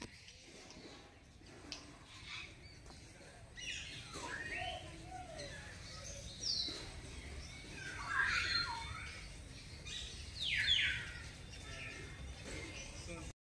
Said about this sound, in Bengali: প্রচুর পাখি, রকমারি পাখি।